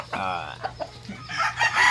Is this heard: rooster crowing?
yes